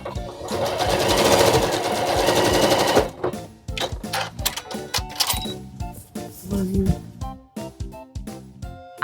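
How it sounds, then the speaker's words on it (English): Sewing machine basting quilt pieces with long running stitches at stitch length 5, a fast loud whirring burst followed by choppy, irregular stitching clatter, close up and without speech. "So I'm going to turn my stitch length up to 5 and baste these 4 pieces."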